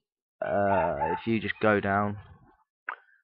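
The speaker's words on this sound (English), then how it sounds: "I'm sorry about my dog if you can hear that." A dog barks and whines in the background while someone talks, a few short yelps and a brief bark near the end, mixed under the speech.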